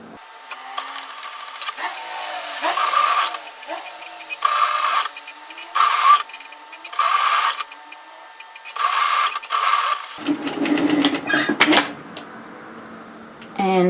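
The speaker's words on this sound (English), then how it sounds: "all we're going to do is turn that up and stitch through the overlocking" A home sewing machine stitching a bodysuit hem in short bursts of rapid mechanical whirring separated by pauses, close by, with a voice talking between runs.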